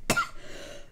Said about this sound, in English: obviously that little cough is still there